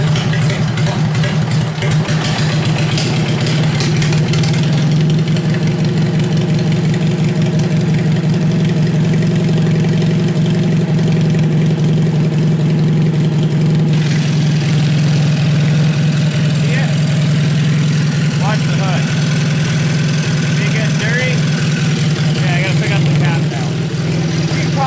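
A worn-out Kohler engine idles after a cold start, a loud, steady, close mechanical drone with a constant low hum and rough ticking texture running the whole time.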